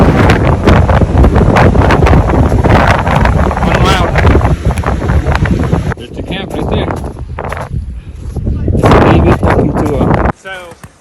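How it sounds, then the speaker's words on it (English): Strong winter-storm wind roars and buffets the microphone at a campsite, loud and continuous with gusting surges, while people talk over it. "Look at the wind."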